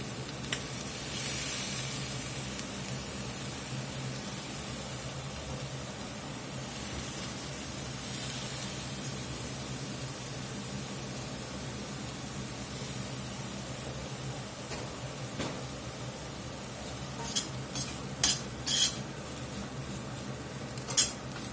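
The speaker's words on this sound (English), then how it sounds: "I'm going to let those seasonings just toast in this beef a few minutes." Seasoned shredded beef sizzles steadily in a pan as spices toast, a continuous soft hiss with occasional sharp clinks and scrapes of a utensil against the pan toward the end.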